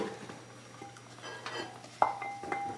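Sweet potatoes being mixed with salt and pepper in a bowl, with soft scraping and stirring, a few light clinks of a utensil against the dish, fairly close and quiet.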